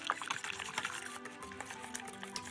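A gelatin mixture is whisked in a bowl, giving a quick, busy, wet sloshing and clinking that runs continuously at close range.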